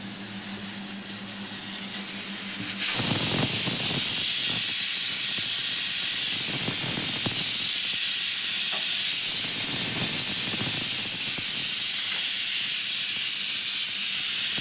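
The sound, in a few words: ration rice hissing on a hot tawa griddle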